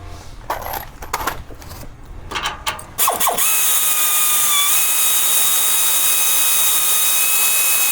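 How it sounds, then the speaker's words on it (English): Bolts and washers being taken off an aftermarket off-road bumper on a Toyota Tundra, with a few metallic clinks and ratcheting clicks early on, then a steady loud whirring power tool with a high tonal whine. "Let's get these bolts off and the washers that should have came with it on them."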